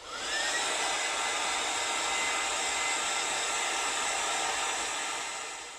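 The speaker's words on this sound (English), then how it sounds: "So I'm going to dry this off." A hair dryer blows steadily and loudly at close range for several seconds, drying a hand-painted Christmas ornament, a continuous whooshing roar that fades slightly at the end.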